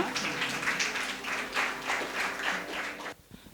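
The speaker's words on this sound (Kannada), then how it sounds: "ಚಪ್ಪಾಳೆಯೊಂದಿಗೆ ಇವರನ್ನು ವೇದಿಕೆಗೆ ಬರಮಾಡಿಕೊಳ್ಳೋಣ" An audience at a classical music concert applauds to welcome the musicians, including a mridangam accompanist, to the stage. The clapping is steady and moderately distant, then drops off sharply to a few scattered claps at the end.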